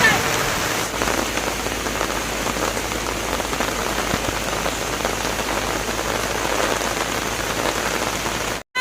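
Heavy rain falls steadily and densely on surfaces nearby, a constant loud wash of drops with no pauses, ending abruptly.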